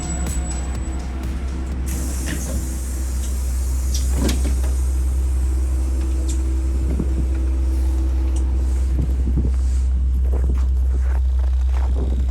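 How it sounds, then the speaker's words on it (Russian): Half-empty bus in Yakutia rolling along, with a steady low engine drone and broadband road rumble throughout, plus scattered rattles, clicks and thumps of the cabin; no talking. "Не знаю, как вы, но я люблю прокатиться на полупустом автобусе."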